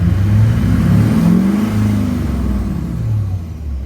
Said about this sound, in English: Let me give it a little bit of throttle.